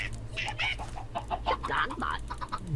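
Chickens cluck in the video game Minecraft, a run of short, choppy clucks and squawks at moderate volume over a steady low background hum, with no clear talking over them.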